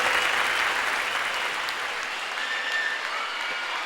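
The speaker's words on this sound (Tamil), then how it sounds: "உங்களுக்காக எல்லாரும் எந்திரிச்சு இன்னும் பிரமாதமாக கைதட்டுறாங்க" A television show audience rises to its feet and applauds, with loud, dense, sustained clapping filling the hall that eases slightly toward the end.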